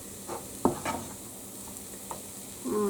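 Cooked choux dough is stirred in a pot with a few soft, irregular scraping and squelching strokes, faint and close, with quiet pauses between them.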